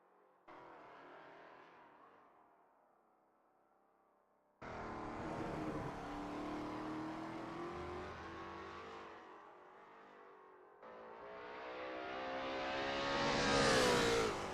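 Lola T70 MkII Spyder race cars warming up at Spa in a racing game sound as a series of loud engine runs, each revving and climbing in pitch, close and with no talking.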